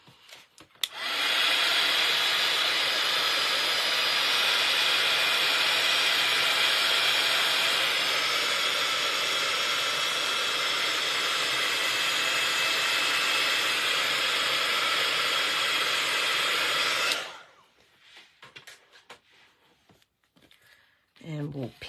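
A heat tool blows hot air over a mixed media card as a steady, loud whooshing hiss for about sixteen seconds, then cuts off abruptly, leaving faint bumps and handling noise.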